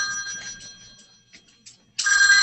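A telephone rings during a plumbing lesson: bright, steady electronic tones sound, fade briefly, then return loud and sustained.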